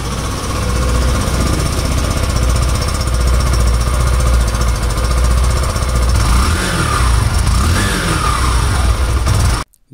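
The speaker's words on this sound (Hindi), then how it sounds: "अब मैं इसके इंजन को ऑन करता हूँ और दोस्तों आपको इसकी एग्जॉस्ट साउंड सुनाता हूँ" A 2021 Hero Passion Pro BS6 motorcycle engine idles and runs steadily with a rough, throbbing exhaust note, close and loud, with a brief rev near the end before cutting off.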